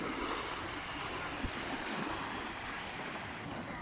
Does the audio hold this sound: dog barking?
no